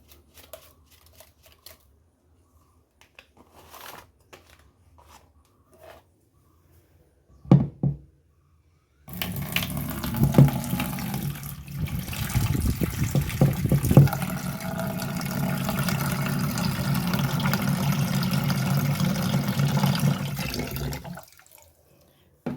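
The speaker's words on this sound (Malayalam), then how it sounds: "ഇതിനെ ഞാൻ കുറച്ചെടുത്ത് വെള്ളത്തിൽ കലക്കുക." Water poured into a container to dissolve citric acid, a steady close splashing fill running for about twelve seconds after quieter faint knocks and handling sounds, with no talk.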